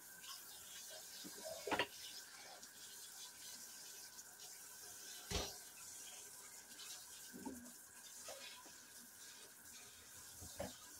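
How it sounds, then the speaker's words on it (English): Water runs steadily over pickle cucumbers in a colander, a continuous soft rinsing hiss with occasional louder splashes and clunks, heard close and alone. "Just continuing to rinse."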